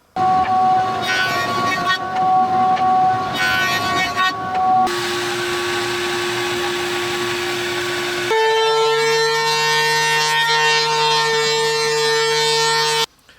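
A thickness planer running walnut and maple stock, a loud sustained machine whine with steady tonal hum that shifts pitch as boards feed through, ending abruptly when the cut stops.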